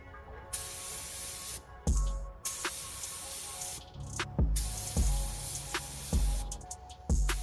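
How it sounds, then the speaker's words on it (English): Short bursts of spray paint hiss close by as a white base coat goes onto a Ford Thunderbird engine bay, each spurt broken by a brief pause and a soft click of the gun. "Let's go ahead and get some base coat on her."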